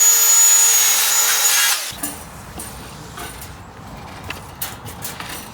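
A power saw cuts through poplar wood close by, a loud whining buzz for almost two seconds that stops abruptly, followed by quieter scraping and handling of the cut piece.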